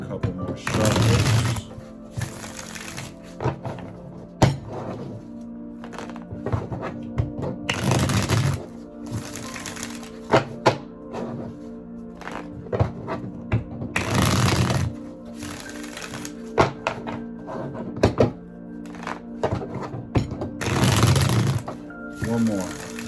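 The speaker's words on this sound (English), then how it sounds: "A couple more shuffles." A deck of tarot cards shuffled over and over, with four main riffling bursts spread across the stretch and softer card handling in between. A voice talks under the shuffling.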